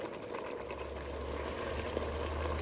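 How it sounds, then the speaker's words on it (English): Marinated beef tips in a crowded pan, a steady bubbling, watery sizzle closer to simmering than searing, moderately quiet and continuous with a low hum beneath. "My second batch, sizzling away."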